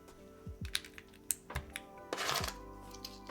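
Clacky keystrokes on a mechanical keyboard, irregular bursts of taps with a brief rapid flurry, close and fairly quiet, with no voices.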